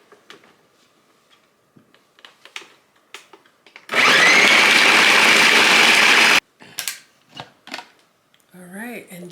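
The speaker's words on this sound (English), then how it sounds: "So I'm going to be adding 4 cubes to this mixture. Okay, so we're gonna give that a good blend." A kitchen blender whirs loudly for about two and a half seconds, blending bouillon cubes into a mixture for Senegalese jollof rice (riz gras), with speech and small handling clicks before and after.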